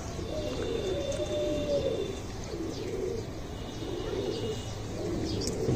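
Flying pigeons in a loft in Habiganj, Bangladesh, give a steady low cooing that runs through the whole stretch, with faint chirps layered over a continuous bed of flock noise.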